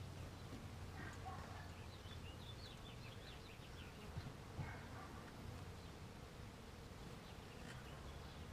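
Honeybees buzzing around a backyard hive as it is moved onto a new bottom board, a faint, continuous hum with scattered individual bees flitting past, no talk.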